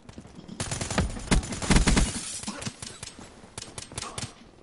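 Bursts of rapid gunfire in the Black Ops 3 multiplayer shooter, a dense rattling volley building in the middle then breaking into scattered sharp shots, fairly close, with faint voices underneath.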